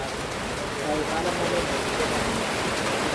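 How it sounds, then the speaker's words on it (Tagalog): Heavy rain pours down, a dense, even hiss that fills the whole clip and swells slightly partway through, with no other sounds standing out. "So, lumakas yung ulan."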